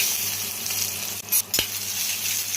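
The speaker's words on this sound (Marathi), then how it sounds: "हे बघा चांगलं फ्राय झालं आहे." Onion and spices fry in a hot pan for an egg curry, making a steady, close sizzle, broken by a brief stirring scrape and a short clatter.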